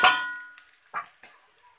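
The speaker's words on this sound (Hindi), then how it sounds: "तो आप देख सकते हैं कि लहसुन हमारा गोल्डन ब्राउन हो चुका है, अब मैं इसमें मिर्ची डाल देती हूँ।" Green chillies drop into garlic fried golden brown in hot oil for a village-style greens tempering: a sharp metal clang of a utensil on the pan, then a few brief, close sizzling bursts.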